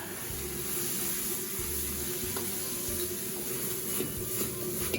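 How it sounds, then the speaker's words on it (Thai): Chinese kale and salted fish stir-fried in hot oil over high heat, giving a steady close sizzle with faint scraping stirs throughout, no voices. "เมื่อน้ำมันร้อนได้ที่แล้วนะครับ เราก็จะลงไปผัดเลยนะครับ"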